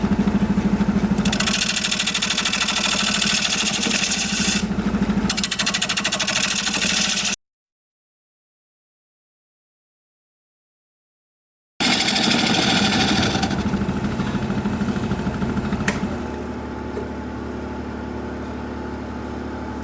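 A woodturning tool being sharpened: a steady motor whine with grinding noise, then a few seconds of silence, then it runs again before winding down to a lower hum. No talk.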